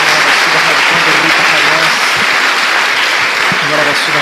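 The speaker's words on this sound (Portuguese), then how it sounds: "Dê mais uma salva de palmas a Jesus." A church congregation claps loudly and steadily in a full, continuous wash of applause, with voices mixed in beneath.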